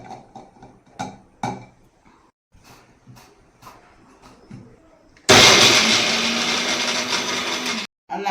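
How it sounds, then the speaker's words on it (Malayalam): An electric blender grinds garlic, green chillies and shallots with a loud, steady whirring roar that starts abruptly partway through, after earlier quieter kitchen sounds, and cuts off briefly near the end. "വെളുത്തുള്ളി, പച്ചമുളക്, കൊച്ചുള്ളി എടുത്ത് അത് നമുക്ക് അരച്ചെടുക്കാം"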